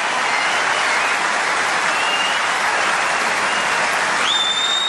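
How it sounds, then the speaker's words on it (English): Steady, dense applause and cheering from a large tennis crowd fills the whole stretch at an even, loud level, with no talk over it. "Pat Cash has given the fans something to cheer"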